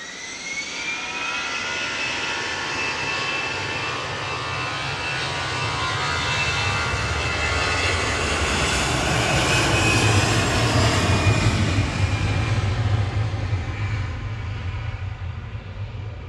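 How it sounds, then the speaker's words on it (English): An EasyJet Airbus A320 Classic jet departs Manchester Airport on a flight to Lisbon. Its engines make a loud, continuous roar that swells gradually and holds steady throughout, with no voices. "OE IDO departing now with flight 7704 to Lisbon for EasyJet"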